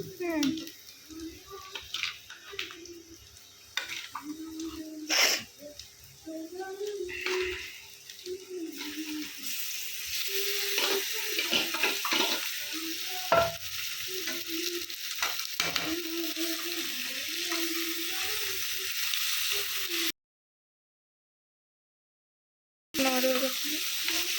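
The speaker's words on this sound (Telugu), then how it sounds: "ఇప్పుడు చికెన్ వేస్తున్నా" Chicken pieces go into a pan of frying curry base and hiss with a steady broadband sizzle, broken by scraping stirs of a spoon, as someone talks over the cooking; a brief silent gap interrupts near the end.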